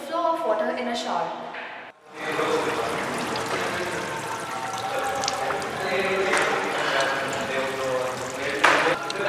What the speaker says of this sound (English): this is the demonstration for the flow of water in a shower.